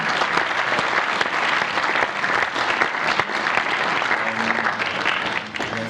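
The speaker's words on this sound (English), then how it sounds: "so a big applause" Audience applause at a conference session on financing sustainable logistics and supply chains, a dense steady clapping from a full room lasting several seconds and tapering slightly at the end.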